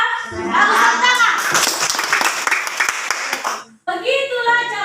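Schoolchildren clap together in a classroom, a dense burst of close applause mixed with children's voices, then a short pause before the chatter of young voices resumes.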